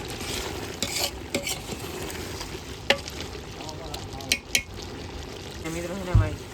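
Chicken fries in a pan with a continuous close sizzle while a utensil stirs and scrapes it, making a few louder knocks against the metal. A voice speaks briefly.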